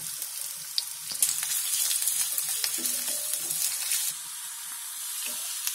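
Onion, green chili and curry leaves fry in a pan for an Indian egg and vegetable dish, giving a steady close sizzle and hiss with light stirring and scraping throughout, no voices.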